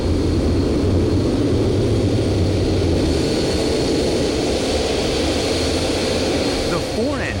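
Airbus A380 four jet engines roaring in a loud, steady broadband rush that holds throughout, with a narrator talking over it.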